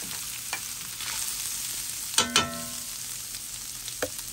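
Food frying and sizzling in a pan on the stove, a steady hiss with a few sharp clicks and scrapes of a utensil against the pan, no talking.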